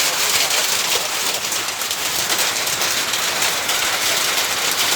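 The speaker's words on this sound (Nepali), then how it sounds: "असिना पर्न स्टार्ट भयो" Hail coming down hard in a daytime storm, a dense, loud and continuous patter on surfaces with no break and no voices.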